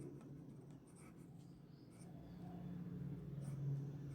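A teacher writes on a board during a computer class: faint, scratchy strokes in short bursts, quiet and close, with no speech.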